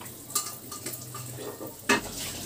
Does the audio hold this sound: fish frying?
yes